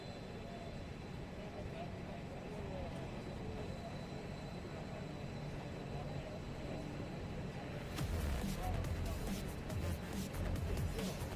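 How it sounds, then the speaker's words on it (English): An Extra 330SC aerobatic airplane engine winds up at an outdoor airshow, a distant droning roar under crowd and announcer talk that grows louder and rougher near the end. "You can hear that extra 330 SC winding up there."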